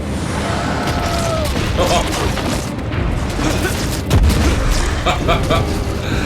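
Muffled booms and bursts of corpse explosions in Wolcen: Lords of Mayhem rumble through a dense, noisy mix, with a heavier blast near the end and voices mixed in.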